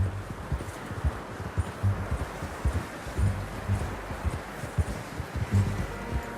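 Steady clip-clop of horse hooves at a walking pace in the video game Red Dead Redemption 2, fairly close, with faint rustling in the background and no talking.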